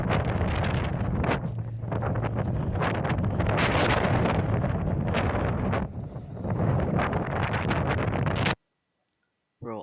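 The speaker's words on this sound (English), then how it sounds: "I really hate that the stupid wind kept on blowing that hard" Strong wind buffeting the microphone at an outdoor Maserati car show, a loud continuous rumbling roar with gusty surges that drops out abruptly near the end.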